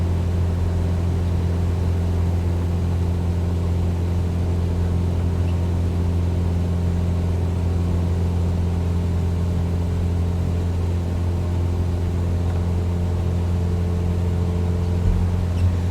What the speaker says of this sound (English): I'll quickly bring the engine back to 2700 RPMs already.